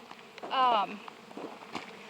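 Bees trying to rob a beehive fitted with a screen and entrance reducer, a brief close buzzing fly-by over faint background hum.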